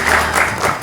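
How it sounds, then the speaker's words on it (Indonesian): Studio audience applauding on an Indonesian television talk show, a steady broadband wash of clapping that holds at a fairly loud, even level through the short stretch with no voice on top. "Kita berikan tepuk tangan untuk Pak Ugro Seno, luar biasa."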